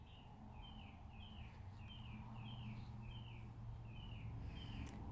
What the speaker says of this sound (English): I don't know if you can hear those birds going a bit crazy out there